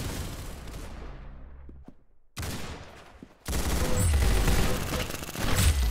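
Gunfire in the Roblox-style shooter Arsenal: bursts of rapid shots with brief gaps and a cut to near silence, then loud, dense continuous firing to the end, close and without talk.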